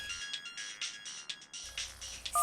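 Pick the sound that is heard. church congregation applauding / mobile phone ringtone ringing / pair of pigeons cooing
mobile phone ringtone ringing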